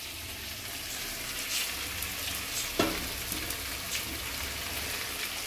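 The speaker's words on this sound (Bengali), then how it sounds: "এবার আমরা এতে গরম জলটা দিয়ে দেবো।" Mutton kosha frying in a pan with hot water added, a steady close sizzle and hiss with a brief splash near the middle, no voices.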